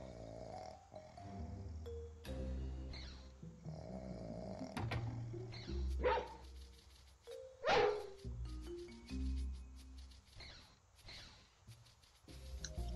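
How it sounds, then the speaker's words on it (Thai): A dog barks in the Robbery Bob video game, a series of short, sharp bursts spaced irregularly over game music and effects, several louder yelps near the middle. "ถ้าเปิดปุ๊บไอ้หมามันต้องเห่าแน่ๆนะครับ"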